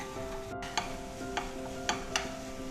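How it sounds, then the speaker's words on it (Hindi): Chili, turmeric and coriander powders frying with tomatoes in a pan for rajma masala, a soft steady sizzle with a few light taps of the spoon, quiet and close, no voices. "मसालों को भी हम टमेटोज़ के साथ थोड़ा सा भून लेंगे।"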